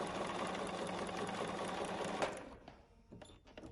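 A sewing machine stitches fabric for a bag in a steady, rapid whirring run that stops near the end, leaving a few faint clicks.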